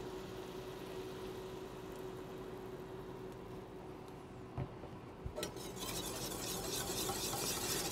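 A sauce of raspberry wine and Dijon mustard being stirred in a pan while preparing quail, a steady close scraping and swishing under a low hum, with a couple of sharp utensil clinks midway.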